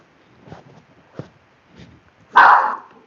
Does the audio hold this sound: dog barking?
yes